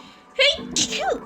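A cartoonish sneeze from a character in the video game 999, a short sharp burst followed by a brief exclaimed voice, heard clearly and close.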